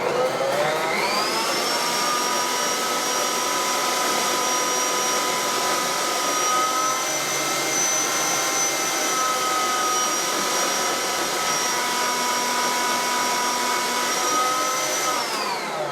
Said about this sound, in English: And I'm going to put them through the tall, thin side of the slicer shredder.